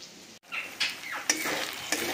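Spice paste for a foli fish curry frying and being stirred in a pan, with a steady sizzle and spoon scrapes coming through in several bursts. The sizzle is close and moderately loud, with no talk over it.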